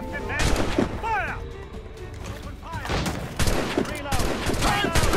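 Gunfire and cannon volleys from a naval battle in Assassin's Creed Rogue: loud repeated booming blasts and crackling musket fire, with shouted commands and voices mixed in.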